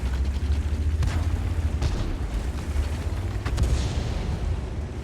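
Jagdtiger 8,8cm tank destroyer cannon fire in a tank video game, two heavy booming shots over a constant loud rumbling engine bed, with no talking.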